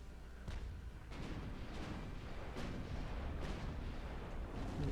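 Ultimate Admiral Dreadnoughts battleship main battery guns firing capped AP and HE shells at a cruiser: a steady run of heavy booming blasts, roughly one every second, over a continuous low rumble, with no talk.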